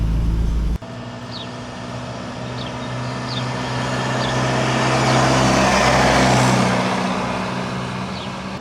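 A TDI diesel-swapped Willys Wagon driving in gear, a steady engine hum and road rumble that swells and fades, with faint intermittent clicks and no talk.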